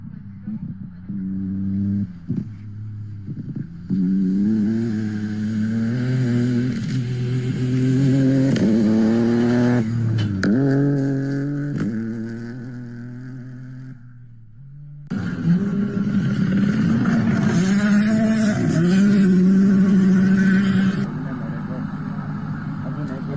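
WRC Safari Rally cars racing past in 2025, engines revving and accelerating loudly and close, with rising and falling pitch sweeps, while people talk and shout over the noise.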